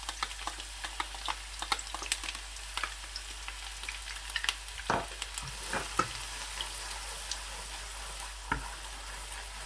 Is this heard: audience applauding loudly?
no